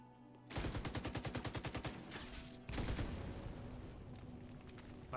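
Automatic gunfire in the video game Division 2 opens with a rapid, evenly spaced burst of shots, then gives way to a heavier, denser second volley that rumbles on, loud and close.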